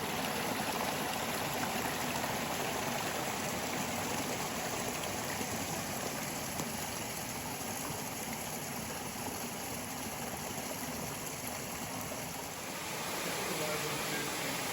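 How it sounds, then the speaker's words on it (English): A waterfall at the head of Clifty Canyon in the Sipsey wilderness rushes steadily as a constant broad roar of falling water, unbroken throughout. "Nice waterfall."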